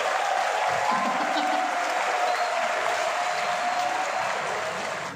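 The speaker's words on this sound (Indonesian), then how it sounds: "Tepuk tangan dulu dong." A lecture audience at a university talk on big data in cyber security breaks into steady, dense applause that holds for about five seconds at a fairly loud level before starting to fade.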